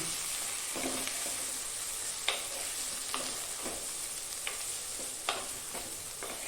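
Raw mango pieces and beans get stirred in oil with spice powders, a low continuous sizzle broken by repeated scraping strokes of a spoon against the pan, close up and steady, with no voices.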